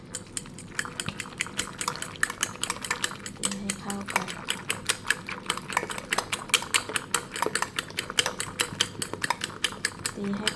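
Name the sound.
whisking eggs with seasoning in a bowl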